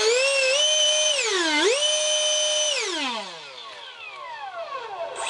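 A 70mm electric ducted fan in a thrust tube for a foam jet spins up to a loud, piercing whine, dips and rises in pitch, holds steady, then winds down with falling tones.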